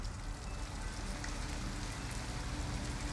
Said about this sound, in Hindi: एंड अभी भी बारिश हो रही है।